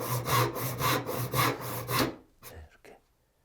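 A hand saw cuts wood along a marked line while shaping a dovetail tenon, with slow, steady rhythmic strokes for about two seconds, then a few scattered scrapes and taps as the sawing stops.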